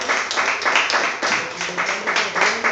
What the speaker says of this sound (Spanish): Un aplauso, Señor Jesucristo